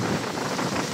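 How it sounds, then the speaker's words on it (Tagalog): Strong wind buffets the microphone as a continuous broadband roar on an ATV trail ride through rain and mud near the Chocolate Hills in Carmen, Bohol, steady and loud throughout with no talk. "Lakas ng hangin dito guys."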